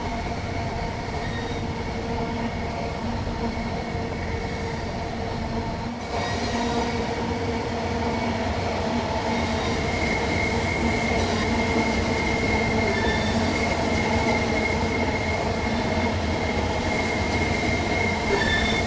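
Train running in the Train Sim World 3 game on the Dartford to Gillingham line, a steady loud rumble of rolling wheels with sustained squealing and whining tones, continuous throughout with no talking.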